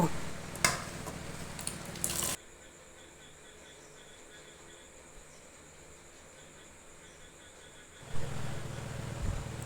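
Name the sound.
vegetables frying in a pan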